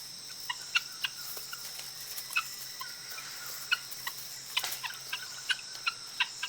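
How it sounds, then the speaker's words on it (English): A flock of wild guinea fowl in an African forest keeps up scattered, faint clucking calls in short irregular bursts, set against a steady hum of insects. "they live in noisy flocks, clucking to help keep the group together"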